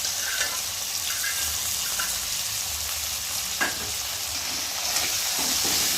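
Prawns frying in a pan with ginger paste, cumin paste and chopped tomato while being stirred: a continuous bright sizzle and hiss, with occasional scrapes of the spoon, and no talking.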